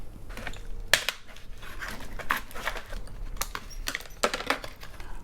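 Scissors or cutters snip away the top of a tube of coarse bonsai soil mix, producing sharp clicks and snips with faint crunching in between, close and irregular, with no talking.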